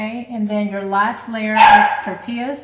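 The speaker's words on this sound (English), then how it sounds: "Excuse my needy dog in the background." A needy pet dog barks and whimpers in the background of a home kitchen during chicken enchilada casserole assembly, short yips rising over someone talking close by.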